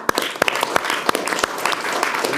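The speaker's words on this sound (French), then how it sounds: "Chez Cyril Hanouna, on peut l'applaudir." A French TV talk-show studio audience bursts into applause for a guest, a dense wash of clapping with sharp individual claps standing out, sustained and close for a couple of seconds.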